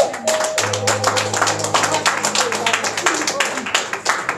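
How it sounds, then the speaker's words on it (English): A congregation at a church wedding claps in quick rhythmic bursts, sharp hand claps repeating steadily under voices and sustained musical tones. "Can we clap for Jesus?"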